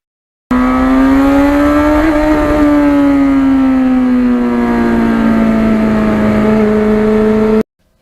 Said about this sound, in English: what I really do like to do is just go through those gears.